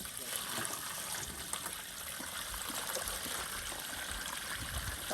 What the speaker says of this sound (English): So I'm just going to bucket water in.